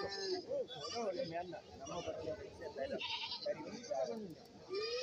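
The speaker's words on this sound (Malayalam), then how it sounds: "തള്ളയാടും കുട്ടികളും എന്താ ഇവിടെ നിൽപ്പുണ്ട്" Mother goats and young kids bleating at a busy Kerala goat market, repeated wavering bleats from several animals near and farther off, mixed with crowd chatter and people talking throughout.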